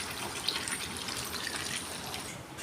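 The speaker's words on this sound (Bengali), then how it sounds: "এবার আমি জল দিয়ে দেবো ঝোলের জন্য।" Water poured into a wok of braised meat to make gravy, a steady close trickling and splashing flow that runs without break, with no voices.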